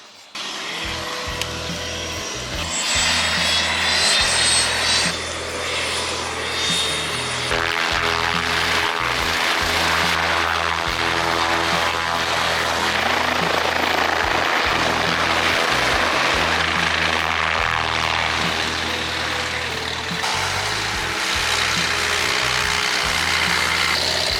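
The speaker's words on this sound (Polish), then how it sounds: "trafiliśmy idealnie na dużą ilość samolotów startujących" An aircraft at an airfield runs up and takes off, a loud continuous engine and propeller drone that builds and holds steady, with a brief high whine at the start and no talk.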